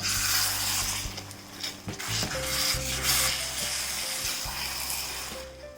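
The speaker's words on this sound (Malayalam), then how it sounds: "ഒരു 2-3 മിനിറ്റ് ഇതുപോലെ ഒന്ന് മിക്സ് ചെയ്ത് കൊടുക്കാം." Tomato and garlic paste being stirred into a chicken curry, a steady sizzle under a spoon scraping and mixing, with low tonal hum throughout and no talk.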